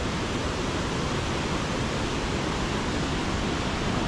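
Water rushes at Tat Kuang Si waterfall in Laos, a dense, unbroken roar that stays constant and loud throughout, with no voices over it.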